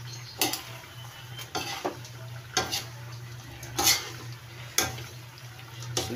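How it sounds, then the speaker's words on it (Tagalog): Turtle snake simmering in coconut milk for ginataang takig, with a low steady bubbling hum broken by several sharp clinks and scrapes of a utensil against the pot, close by. "Simpleng pagluluto ng turtle snake."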